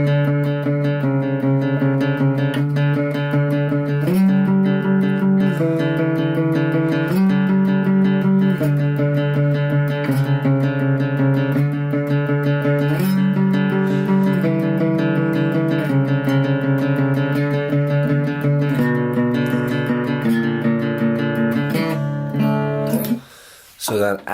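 Electric guitar plays a repeated, rhythmic riff at full speed, loud and close, with chord changes cycling steadily before cutting off at the end.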